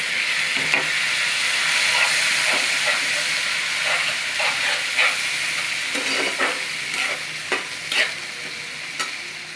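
Spice masala for chicken curry sizzles steadily in a pan, with a hissing fry throughout and repeated scrapes of a stirring spoon.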